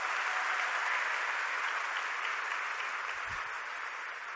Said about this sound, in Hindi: फिर से जोरदार तालियां।